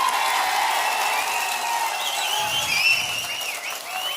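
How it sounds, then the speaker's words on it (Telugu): Crowd at a Chandrababu Naidu TDP election campaign rally in Palamaner claps steadily and continuously at close range, a dense wash of applause lasting throughout with no talking. "ఆశీస్సులు ఇస్తామని గట్టిగా చప్పట్లు కొట్టి మీరంతా కూడా చేయాలి"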